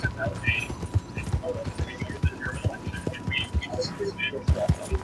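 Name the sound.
horse hooves clip-clopping in Red Dead Redemption 2 video game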